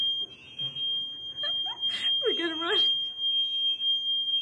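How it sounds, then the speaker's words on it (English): A steady high-pitched smoke alarm tone sounds continuously while people talk over it nearby. "so the fire alarm went on."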